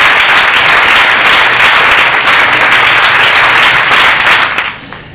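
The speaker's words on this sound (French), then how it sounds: "demandons d'ailleurs au public de pouvoir applaudir." Loud, dense applause from a studio audience on a television programme with a cinema group's president, sustained and even for about five seconds before fading off abruptly.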